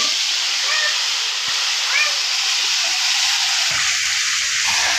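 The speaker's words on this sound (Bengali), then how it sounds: "তো বন্ধুরা এদিকে মাংসটা সম্বাস দিয়ে নিতেছে।" Meat fries with cumin in a hot pan, giving a loud, steady sizzle and hiss that fills the whole stretch, close up, with a few faint tonal squeaks in the background.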